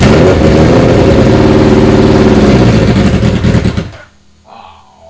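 A neglected Suzuki Hayabusa motorcycle engine running loud and rough with choke held, close by, then cutting out abruptly near the end, leaving near silence.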